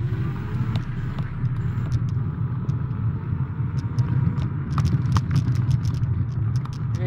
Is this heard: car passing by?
yes